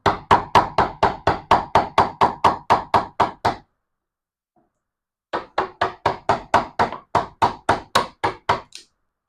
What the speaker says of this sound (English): Let's do just a couple of chops on this thing with this hammer